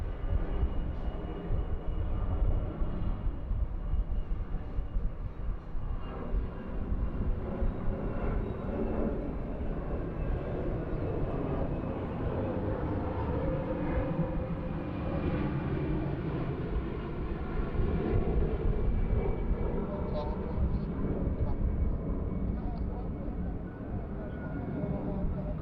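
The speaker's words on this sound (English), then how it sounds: "Lao Airlines A320. Another new one for the stream." Lao Airlines Airbus A320 taking off at Bangkok airport, heard as a sustained low jet engine roar and rumble that swells and holds over about twenty-five seconds, with a voice speaking over it at times.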